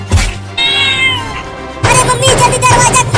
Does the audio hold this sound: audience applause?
no